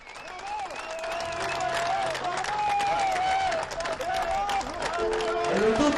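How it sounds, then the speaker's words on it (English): Prisoners in a prison hall give the Pope sustained applause, dense clapping with crowd murmur rising and holding steady throughout. "the police officer there has asked the prisoners to give a strong applause"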